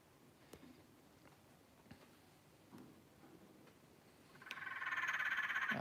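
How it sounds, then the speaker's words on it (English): Wild Perron's tree frogs near an indoor animal enclosure: faint clicks and soft knocks at first, then a loud, sustained, buzzing croak chorus swells in toward the end. "then that's wild Perron's tree frogs."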